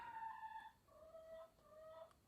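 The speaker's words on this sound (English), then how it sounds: "That's a chicken, in case you're wondering what that noise is." A red chicken kept in a basement clucks and calls in a few drawn-out, wavering notes, close and fairly quiet, with no talking.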